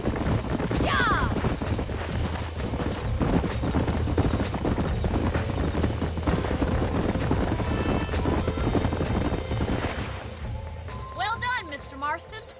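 Horses gallop and clip-clop steadily in a Red Dead Redemption game scene, hooves mixed with wind and a whinny, running loud throughout under talking voices before easing off near the end.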